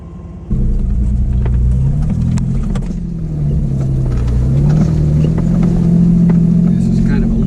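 A car climbing a low-range mountain canyon road: a loud, close, steady engine drone that swells and settles as the driver works up the grade, with someone talking over it.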